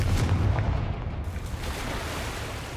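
A Confringo blasting spell bursts in Hogwarts Legacy, a loud deep rumbling blast with a heavy low boom at the start that rolls on and slowly fades over a few seconds, with no talking.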